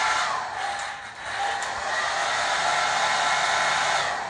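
Close, continuous blowing hiss from a wall-mounted hotel bathroom hairdryer in Rhodes, Greece, dipping slightly for a moment before settling into a strong, even rush of air.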